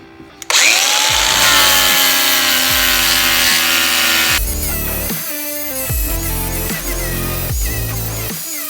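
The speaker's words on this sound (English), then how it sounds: "just using is literally a piece of sandpaper on this grinder, 60 grit" An angle grinder fitted with a 60-grit sandpaper disc, used to clean up parts on a Honda 300EX, whines loudly and steadily for several seconds, then drops into intermittent bursts of rough grinding and rubbing.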